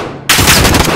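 Gunfire in Call of Duty: Modern Warfare, a loud close burst of rapid automatic shots erupting suddenly and continuing densely to the end, with no voices.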